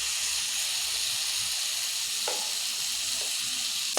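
Chopped tomatoes sizzle and fry in a pan of chicken curry as they are stirred, a steady close hiss with a couple of brief scraping clicks.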